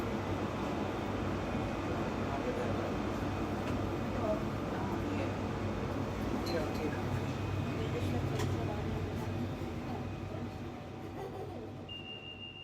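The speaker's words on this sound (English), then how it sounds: "the one I'm going to show you right now is recorded on the tube on the Central line" A London Underground Central line train to Epping rumbles steadily along with a loud, continuous low drone and rattling, easing slightly toward the end as a faint tone appears.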